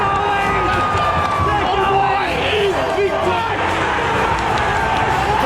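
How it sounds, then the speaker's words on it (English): A big crowd at an AFL Australian rules football game keeps up a loud, continuous roar and cheer, with voices talking over the top throughout. "The buzz of the crowd was electrifying"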